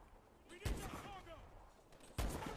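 Gunfire in the Call of Duty Advanced Warfare campaign: two sharp, booming shots about a second and a half apart, with in-game voices talking between them.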